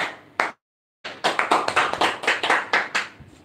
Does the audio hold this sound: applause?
yes